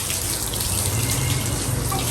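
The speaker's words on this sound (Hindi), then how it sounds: "कूलर में पानी डालें" Water pours steadily into a household air cooler, a loud, continuous rushing and splashing close by that holds constant throughout.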